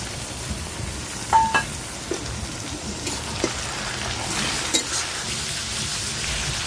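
Mutton pieces sizzle softly in a pan with chopped onion and bay leaf, a faint crackling fry with a few sharper pops scattered through it.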